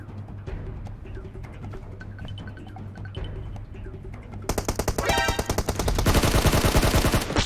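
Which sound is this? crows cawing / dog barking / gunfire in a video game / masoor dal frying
gunfire in a video game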